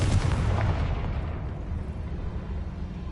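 A Confringo blasting spell detonates in the Hogwarts Legacy game, a loud booming explosion at the start that trails off into a rumbling, fading decay.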